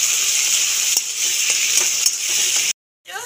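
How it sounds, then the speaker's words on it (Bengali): Chopped tomato and green chilli stirred and fried in oil in a pan for an Amudi fish jhal curry: a loud, steady sizzle with soft stirring scrapes, cutting off abruptly just before the end. "একসাথে নেড়ে ছেড়ে ভেজে নেব।"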